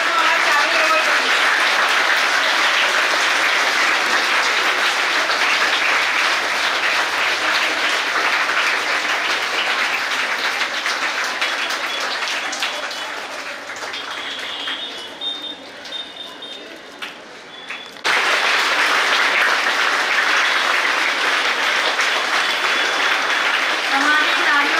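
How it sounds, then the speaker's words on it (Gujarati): Audience applause at an Independence Day celebration, loud continuous clapping from a large crowd that fades to a softer patch midway, then returns abruptly at full strength. "તાળીઓનો અવાજ ચાલુ રહેવો જોઈએ।"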